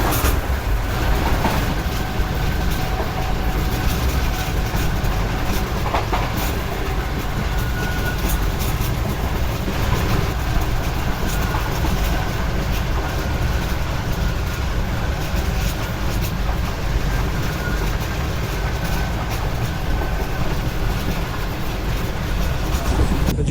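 Pak Business Express train racing alongside a road toward Khanewal, a steady, unbroken rumble and clatter of wheels on rails filling the whole stretch, close and moderately loud with no talk.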